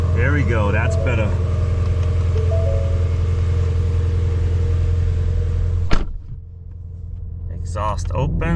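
A Ford Mustang Shelby GT350 V8 idles with its exhaust valves open, a deep steady rumble close by, while people talk over it; the engine note drops near the end.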